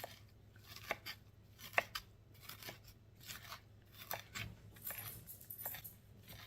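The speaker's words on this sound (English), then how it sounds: "And I'm just going to dice this up." A knife dices green chilies on a cutting board, giving a string of irregular crisp chops and taps up close with a few sharper knocks, and no talking.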